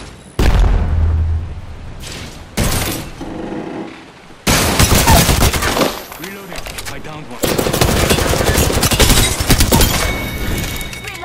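Heavy automatic gunfire in a Crypto match of a shooter game, loud sustained bursts of rapid shots separated by brief pauses, with booming impacts mixed in.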